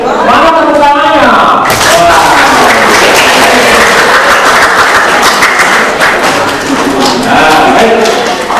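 Audience at a Maulid Nabi gathering bursting into loud, dense applause after a brief voice at the start, the clapping sustained and close, fading slightly near the end.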